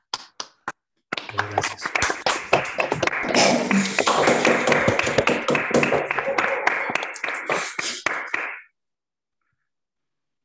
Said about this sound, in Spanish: les demos un aplauso a Alejandro